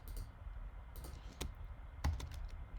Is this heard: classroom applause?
no